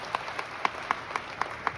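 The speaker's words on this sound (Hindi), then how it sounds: "एक बार आपके लिए जोरदार ताली हो जाए" Rhythmic clapping at a motivational seminar in a Lucknow hotel hall, sharp evenly spaced claps about four per second, fairly close and moderately loud.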